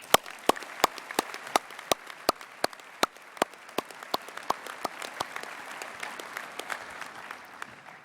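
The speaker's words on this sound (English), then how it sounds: "Let's celebrate again with a warm round of applause." Audience applause at a senior school prizegiving ceremony, a steady run of sharp individual claps ringing out in a large hall, moderately distant and sustained for several seconds before thinning toward the end.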